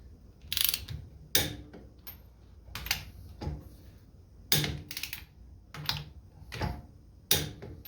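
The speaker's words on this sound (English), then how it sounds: "I'll torque everything to like just over half, like 60 foot-pounds of torque, and then once that's done, I'll increase to 110." A wrench ratchets lug nuts on Bro-tek wheel spacers fitted to a Kubota L3901 tractor, sounding as close, repeated bursts of rapid pawl clicking separated by short pauses.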